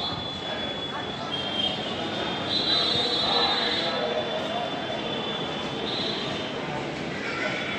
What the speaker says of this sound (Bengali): এই বর্ধমান জংশন।